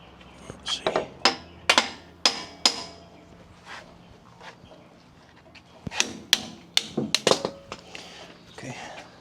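Sharp metallic hammer blows on a Freightliner Classic truck come in irregular clusters, loud and close, with quiet pauses between the bursts.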